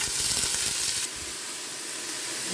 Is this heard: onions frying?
yes